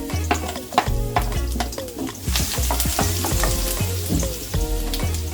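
Chopped garlic fries in two spoons of oil in a wok-style pan, a close, busy sizzle with a utensil scraping and clinking as it is stirred, and no talk.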